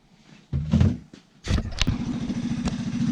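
A rat rod's engine, recently repaired after fuel problems, cranks with a short rough burst, pauses, then fires and settles into a loud, close, lumpy idle with rhythmic pulses.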